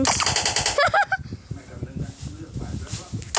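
Gunfire in a video game sounds as rapid bursts of shots, with a honking squawk partway through, while people talk over the game.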